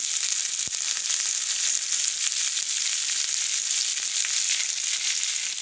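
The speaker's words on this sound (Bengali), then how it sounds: "হালকা ভেজে নেবো, বেশি ভাজবো না।" Diced potatoes frying lightly in a pan with salt and turmeric give a steady, close, even sizzle that holds without a break, with one faint knock near the start.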